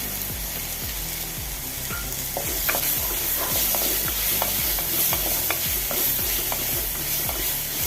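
Sliced onion and chopped tomato sauté in a pan for Kerala-style roasted coconut prawn curry, a loud, dense sizzle with a steady pattern of spatula scrapes and clicks, close up and continuous, no one talking.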